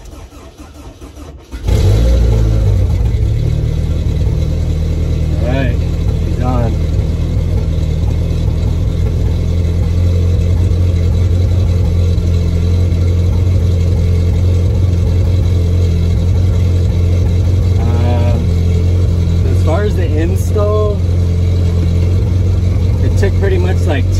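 A turbocharged 490 whp Honda S2000 cranks and fires up after a brief quiet start, then settles into a loud, close, steady idle with occasional revs.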